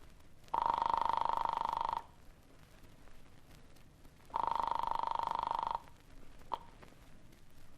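Telephone ringing twice on the other end of a dialed line in an old radio drama, two long buzzing rings separated by a pause, followed by a faint click.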